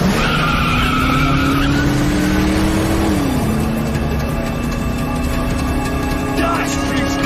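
Car accelerating hard with tires skidding: a sustained screech of tire squeal over a rising engine drone, loud and continuous, with a steady, noisy rumble beneath and a voice briefly heard in the mix.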